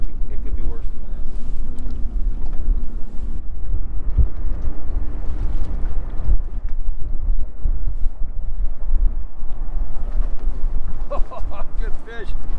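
Strong wind of ten miles an hour or more blowing over open water on a winter crappie fishing trip, loud constant buffeting rumble across the microphone with some water slosh against a boat.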